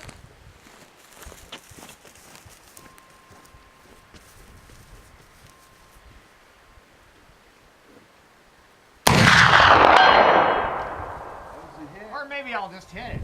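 A single loud rifle shot cracks out during an afternoon shooting session outdoors, ringing with a long decaying echo after several seconds of quiet ambience.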